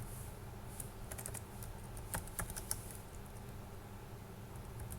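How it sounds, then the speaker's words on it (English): Quiet typing on a computer keyboard, a light, irregular run of soft key clicks with a few brief bursts, close by and without speech. "just type it here in the search bar"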